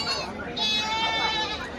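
Several large sheep bleat close by at a market in Pileru, overlapping wavering cries one after another, with a busy crowd murmuring in the background.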